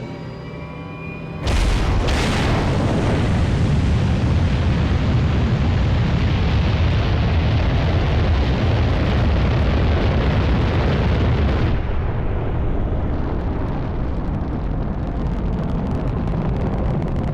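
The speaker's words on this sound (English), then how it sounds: "First stage engine burn nominal." A spacecraft launch in the Halo Reach video game ignites with a sudden massive roar. A dense, loud, sustained rumbling engine burn follows and thins slightly toward the end, with no talking.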